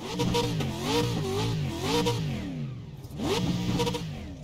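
An iRacing race car engine revs up and down repeatedly, rising and falling in pitch as gears shift, loud and close, with a brief pause before another surge.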